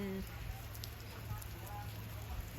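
Steady rain falls and patters outdoors in a dense, even hiss with faint scattered drips throughout, fairly close and continuous.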